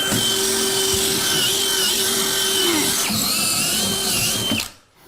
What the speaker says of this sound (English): we are going to drill another hole for access for the wire.